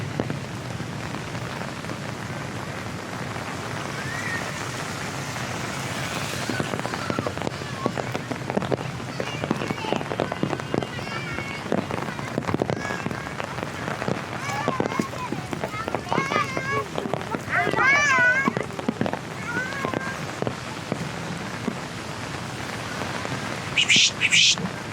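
Rain falling steadily on a street in Manila, a dense close hiss with patter on surfaces lasting throughout, while someone talks over it and birds chirp briefly.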